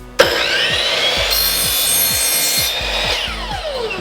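Wooden fencing board being sawn at a 45-degree miter for a toy box: loud, close, rhythmic back-and-forth saw strokes start suddenly and continue steadily for about four seconds.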